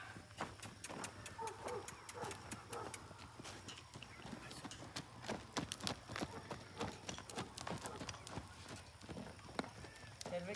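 Steady clip-clop of horse hooves trotting at a brisk, regular rhythm, fairly close, with background noise and occasional voices.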